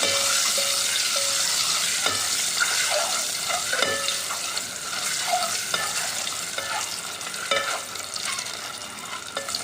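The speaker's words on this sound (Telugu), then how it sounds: "ఎగ్స్ వేసుకుని ఫ్రై చేసుకుందాం లైట్గా కలిపి ఫ్రై చేసుకోవాలి" Beaten eggs fry in hot oil in a pan for mango egg curry, with a steady sizzle throughout and repeated clinks and scrapes of a spatula stirring, close and fairly loud, with no voices.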